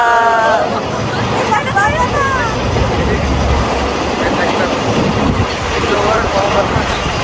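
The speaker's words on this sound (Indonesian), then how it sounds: "Ada kereta." A train rumbles past nearby in Yilan, Taiwan, with a steady clatter, while people chatter and a voice carries over the noise.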